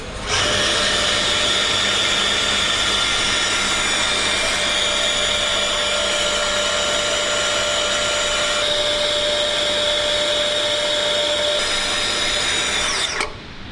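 TB-60 240V electric pipe and tube bender pulling a pipe around to 180 degrees, a steady loud motor whine with a high tonal hum that runs without pause and cuts off at the end.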